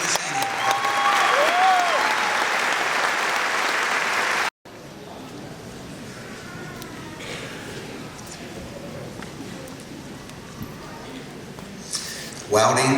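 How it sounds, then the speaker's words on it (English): Sustained applause from the audience at a senior awards ceremony for a precision machining program, dense and steady, cut off briefly midway before resuming more quietly and rising again near the end. "Could we please have another round of applause for the Precision Machining?"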